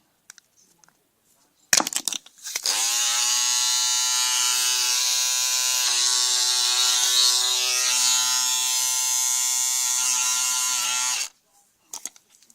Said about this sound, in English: this is my shaver